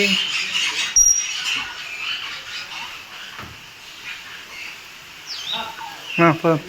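Assorted birds call at Ramoji Film City, with scattered faint chirps and squawks over a soft outdoor background, and a sharper run of chirping near the end.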